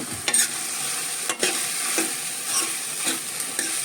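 Beans and peas sizzling in a pan while a spoon stirs them, a constant bright hiss broken by occasional scraping strokes, close up and with no voices.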